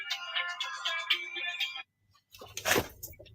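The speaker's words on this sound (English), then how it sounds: "Got a phone call." An incoming call's phone ringtone plays as a bright, tonal melody for under two seconds, then cuts off; after a short silence comes a louder noisy rustle or handling sound.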